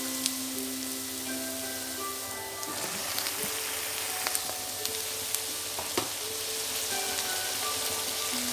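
Chopped tomatoes hit onions that are frying in a pan, giving a soft, steady sizzle with scattered pops and crackles, fairly quiet and with no talking.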